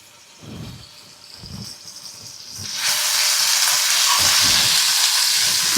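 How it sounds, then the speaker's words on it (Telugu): Ginger garlic paste dropped into hot oil: quiet stirring thumps at first, then a loud, steady sizzle swells up and holds close and continuous. "ఆయిల్లో అల్లం వెల్లుల్లి పేస్ట్ అనేది వేగాలన్నమాట."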